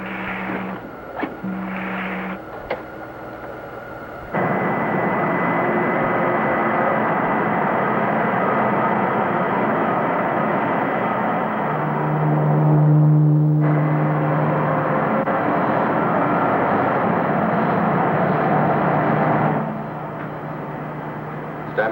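Radio-drama sound effect of a rocket ship landing: a loud, continuous roaring rumble that swells and holds for many seconds, with a low droning tone rising partway through, after a few short beeps at the start.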